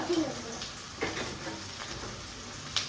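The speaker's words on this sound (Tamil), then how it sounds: "வெங்காயம் சோம்பு சீரகம் பச்சை மிளகாய் போட்டு நல்லா வதக்கிக்கலாம்" Onion, fennel seeds, cumin and green chillies sautéing in a pan, giving a low continuous sizzle with occasional stirring scrapes and a light clink, close by and fairly quiet, no voices.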